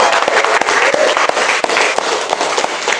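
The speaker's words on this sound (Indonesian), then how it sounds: "Tepuk tangan untuk kalian semua." Classroom applause, a dense burst of quick clapping from many students that carries on steadily at close range without a break.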